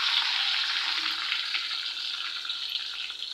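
Steady, close sizzling of onions frying in a pan, a continuous hiss with faint crackles and no voices.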